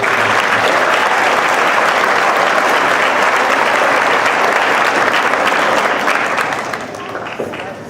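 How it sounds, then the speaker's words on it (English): An audience gives a school music performance a full, loud round of applause for the students. The dense clapping holds steady, then starts to thin and fade near the end. "If you could give them a round of applause."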